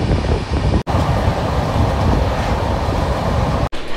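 The Digha Tamralipta Express rumbles along at speed, giving a loud, continuous, broadband roar heard from on board, broken by two brief sharp dropouts.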